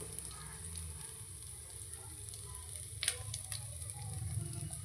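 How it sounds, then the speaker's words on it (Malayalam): Curry leaves are dropped onto chicken 65 frying in hot oil, giving a soft, steady sizzle with a brief crackling burst partway through, faint and close. "65ൻ്റെ മേളിലേക്ക് ഒരു ഇത്തിരി കറിവേപ്പിലയും കൂടി ഞങ്ങൾ ഇട്ടിട്ട് അവസാനിപ്പിക്കാൻ പരിപാടി"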